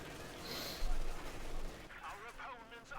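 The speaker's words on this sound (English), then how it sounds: "men are getting mowed down here by machine guns and grenadiers" Machine gun and rifle fire from a Company of Heroes 2 battle between the Wehrmacht and US Forces, dense overlapping bursts at mid distance mixed with explosions and a speaking voice over the top.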